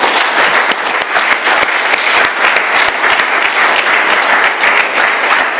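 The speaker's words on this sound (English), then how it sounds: "Let's have another round of applause for Suzanne." A roomful of people at an AA meeting gives Suzanne a round of applause, steady dense clapping that is loud and sustained throughout.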